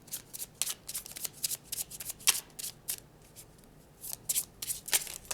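Tarot cards shuffled by hand in a quick series of crisp riffling bursts, close and fairly quiet, with short pauses between runs and no talking.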